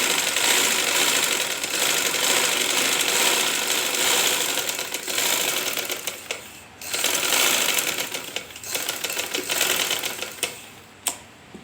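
A sewing machine runs steadily and close up, stitching a straight seam along cloth with a rapid mechanical clatter, easing briefly twice before carrying on.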